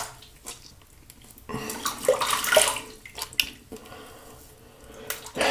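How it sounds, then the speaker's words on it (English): A Gillette New Improved Tuckaway safety razor is rinsed under a running tap, water splashing in uneven close bursts with a louder gush in the middle and quieter trickles around it. "Go and rinse."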